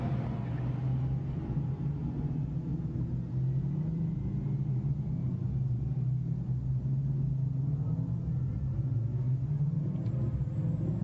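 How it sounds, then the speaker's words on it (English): Low rumbling engines of Lamborghini Super Trofeo race cars on the formation lap at Paul Ricard, a steady droning hum heard from a distance with no talking. "as the cars come round to the grid"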